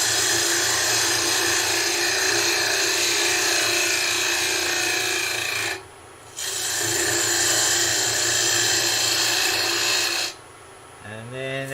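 A skew chisel shears along the side of a spinning wooden tea light holder on a lathe, a loud steady scraping hiss with two brief pauses where the cut lifts away.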